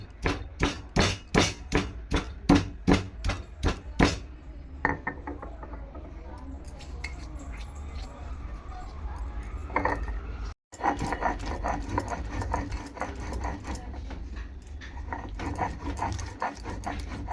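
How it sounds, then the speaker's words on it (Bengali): Ginger is crushed by pounding for a Bengali shukto, with about a dozen sharp, evenly spaced thuds over the first few seconds, followed by quieter scraping and handling sounds. "আদাটা প্রথমে থেতো করে নেবো, নইলে ভালো করে বাটা যাবে না।"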